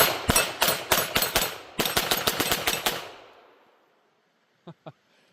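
Rapid strings of sharp, close gunshots from a Taurus TX22 .22 pistol, about six shots, a brief pause, then about seven more fired quickly, followed by fading echo and two small metallic clicks.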